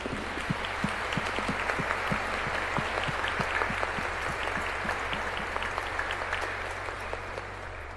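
Congregation applauding during Mass at Santíssima Trindade parish in Tietê, a long, steady round of many hands clapping, with a few distinct claps popping out near the front, slowly easing toward the end.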